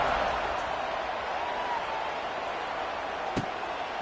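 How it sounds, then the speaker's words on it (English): A virtual stadium crowd in College Football 26 at Stanford vs San Jose State keeps up a steady, dense roar after a touchdown, with one brief thud near the end. "this crowd is buzzing after that last score"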